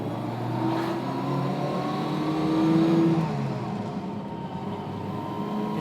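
A 1960s Honda S600 coupe's small engine revs high, swelling briefly and then easing back, heard from close by with a buzzy, steady drone.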